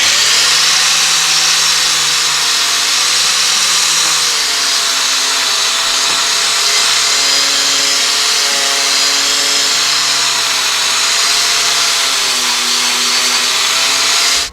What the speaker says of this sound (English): Now I'm going to go through with a wire wheel on a angle grinder.